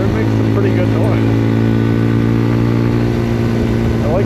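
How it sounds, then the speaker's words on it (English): A Papio SS mini motorcycle with a small undertail exhaust can runs close by with a steady, buzzy engine note that stays constant throughout. "It's got a little fart can back there. It makes a pretty good noise."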